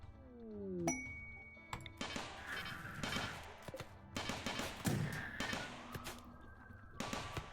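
Defense turrets firing at raiders in RimWorld, faint repeated shots and metallic pings with thuds in irregular bursts, quiet and steady, no talking.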